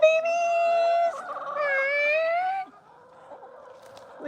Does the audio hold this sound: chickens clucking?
yes